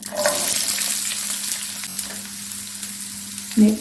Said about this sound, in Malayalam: നമുക്കതിലേക്ക് ഒരു മൂന്ന് സ്പൂൺ എണ്ണ ഒഴിച്ചു നീളത്തിൽ കട്ട് ചെയ്ത് വെച്ചിരിക്കുന്ന ചെറിയ ഉള്ളി ഇട്ട് കൊടുക്കാണ്